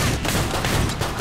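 Rapid gunfire in a frantic zombie video game, a dense near continuous barrage of shots across the whole moment with no talking.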